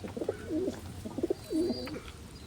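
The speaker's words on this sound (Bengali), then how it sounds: "এছাড়া আমার একটা নাকটানো কবুতর" A Khulna old-breed pigeon coos nearby in two soft, rolling phrases, each a short series of low, throaty notes separated by a brief pause.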